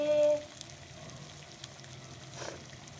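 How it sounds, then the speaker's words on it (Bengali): Chicken sautéing in a pan with spices, oil and turmeric gives a soft, steady sizzle with faint crackles, fairly quiet throughout after a brief tonal sound at the very start. "চিকেনটা কষানো হচ্ছে"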